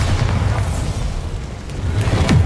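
A Bombarda explosion spell cast in Hogwarts Legacy, a loud, deep, rumbling blast that rolls on for a couple of seconds, with no voices over it.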